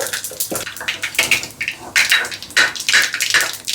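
Mustard seeds and cumin splutter in hot oil with irregular close crackles and pops in quick bursts, with no talking.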